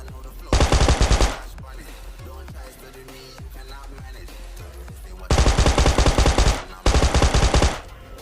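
Automatic gunfire from PUBG Mobile Lite breaks out in three loud, rapid bursts, each lasting about a second or more. Quieter stretches of game noise fill the gaps between them.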